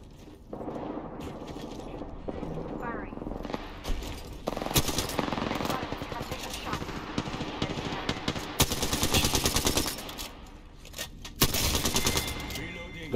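Apex Legends gunfire comes in rapid automatic bursts and single shots, loud and close, with heavy volleys around the middle and end, while a player talks over parts of it.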